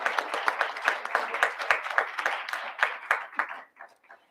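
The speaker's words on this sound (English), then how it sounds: "please give me a warm applause for Mr. Mosier" A room full of people at a board of education public session claps warmly, dense applause that holds steady, then thins out and fades toward the end.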